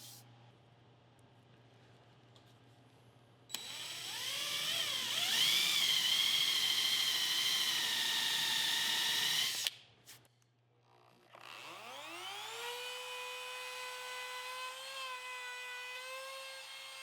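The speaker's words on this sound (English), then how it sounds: "we're gonna get these mortises drilled out" A power drill bores mortises into a wooden board for a beginner project, its motor whining up loud in two sustained runs with a pitch that rises as it spins up, separated by a brief pause.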